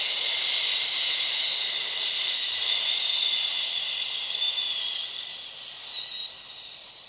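Loud exhale during a vinyasa yoga class, a long breathy hiss of air that holds steady for about seven seconds and slowly fades, close and alone.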